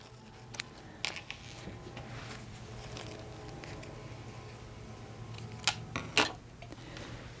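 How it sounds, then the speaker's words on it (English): Scissors snip loose sewing threads on a fabric pouch, a handful of faint, sharp clicks scattered over a low steady hum, with a quick pair of cuts near the end. "now I'm going to clip my threads"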